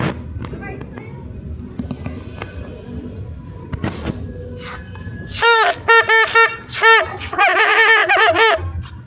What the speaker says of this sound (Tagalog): may mga paputok na kaganina